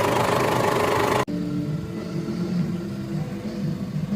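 A Ford Everest engine runs at a steady idle with a low, even rumble, heard close up after a sudden cut from a louder, broadband noise at the start.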